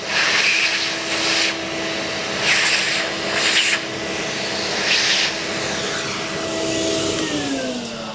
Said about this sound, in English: I'll turn the volume down because all you hear is the hoover